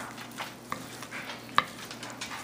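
Wonton filling being mixed with a crushed garlic clove in a bowl, soft stirring and squelching with a few light clinks against the bowl, quiet and close, no talking.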